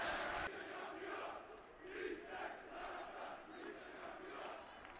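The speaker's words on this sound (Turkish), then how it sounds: "88. dakika Berkay'ın golünü Manisa Spor taraftarı alkışlıyor." Football crowd in a stadium applauding and cheering a late goal for Manisaspor, a distant, murmuring roar of many voices that swells and fades in waves without a sharp peak.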